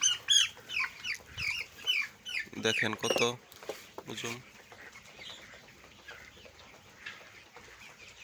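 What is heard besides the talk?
broiler chickens clucking while being caught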